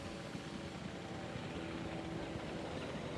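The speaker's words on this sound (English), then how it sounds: "Why are there 5 helicopters in the air?" Several helicopters fly in the Jurassic World Evolution 2 game, a faint, continuous rotor drone that holds steady throughout without speech.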